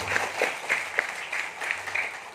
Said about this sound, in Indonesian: Tepuk tangan untuk beliau sekalian.